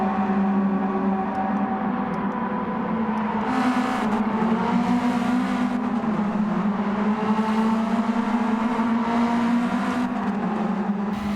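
Race cars in the video game Gran Turismo 7 during a daily online race, a steady engine drone with shifting tones and whirring as cars run close together, continuous and fairly loud throughout.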